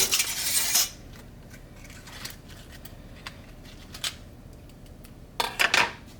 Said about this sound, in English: Now we're just gonna mash it and I'm gonna add a little bit of butter